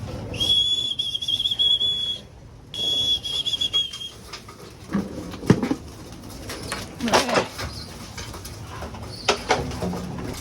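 Birds coo and call close by, with a high whistle-like tone at the start and occasional fluttering wings and rustling in the background.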